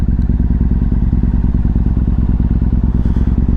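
Yamaha MT-01 motorcycle engine running steadily while riding on a commute, a loud, continuous low pulsing thump with a fast even rhythm, close and alone throughout.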